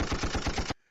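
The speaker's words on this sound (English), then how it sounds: "let's give out gunshot salutes" A rapid burst of gunshot-salute sound effect, about six or seven loud booming shots in even quick succession, which stops sharply and leaves a short fading tail.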